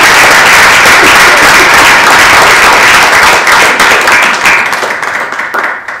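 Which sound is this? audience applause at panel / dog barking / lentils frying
audience applause at panel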